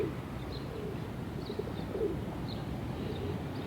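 A red Bango pigeon coos softly in a steady low murmur against constant background noise, with no voices present.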